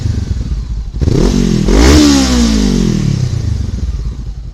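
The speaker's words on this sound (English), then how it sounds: "Rev it up a little bit without pissing off the neighbours." A 2016 Honda CBR500R in matte black with modifications idles, then its engine revs up in a quick rising blip and settles back, loud and close with a steady throb underneath.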